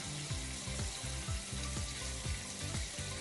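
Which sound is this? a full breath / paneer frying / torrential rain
paneer frying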